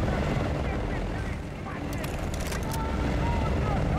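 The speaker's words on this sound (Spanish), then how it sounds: "¡Helicópteros enemigos!" Enemy helicopters in a Battlefield Bad Company 2 battle, a steady loud rotor drone filling the scene, with brief higher tones over it and speech in the mix.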